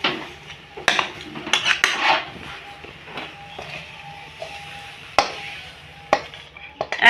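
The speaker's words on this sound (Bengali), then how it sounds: "এখন আমি একটা থালায় এই পুরটা নামিয়ে নেব।" Coconut and jaggery filling being scraped from a pan onto a metal plate, giving sharp clinks and scrapes of utensils on metal with irregular clatters, close by in a quiet kitchen.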